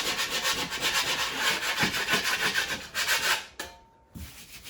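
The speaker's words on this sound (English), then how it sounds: "I'm just going to take a 6-inch taping knife and get whatever I can here." A 6-inch taping knife scrapes loose, torn paper off a damaged drywall surface, making close, steady rasping strokes one after another before a short pause and one final scrape.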